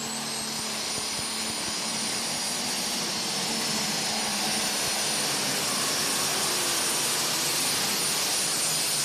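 A super stock diesel tractor pulls at an NTPA tractor pull in Bowling Green, Ohio, a continuous loud roaring whine held without a break, heard from a distance across the open grounds.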